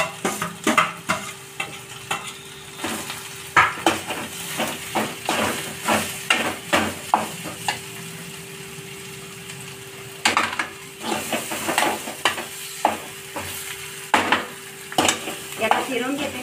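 Mashed potato filling with turmeric fries in a pan while a spoon stirs it, scraping and knocking in an irregular rhythm over a steady close sizzle and hiss.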